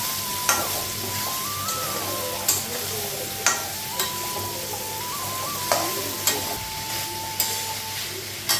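Soybean chunks fry with a little water in a pan, a steady close sizzle broken by regular sharp spatula taps roughly once a second, with a faint tonal whine running underneath.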